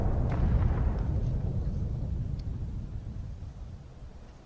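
A single artillery cannon fires in one loud, booming blast that fades into a long rolling rumble, with no voices over it.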